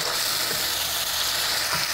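Fish head frying with spices in a hot pan, sizzling and crackling steadily and loudly while being stirred, with no voices.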